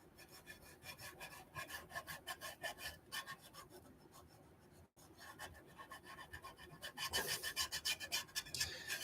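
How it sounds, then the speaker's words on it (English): Sandpaper rasps steadily over a scratch-built model railway overpass in a series of close, rhythmic strokes, briefly pausing midway before growing faster and louder. "let's go ahead and sand this a little bit"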